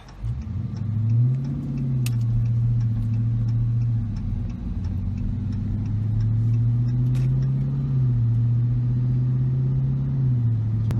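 A 2020 Dodge Charger Scat Pack Widebody rumbles along from inside the cabin, its engine note rising and falling in steady swells as it accelerates and eases off, a deep continuous drone without talking.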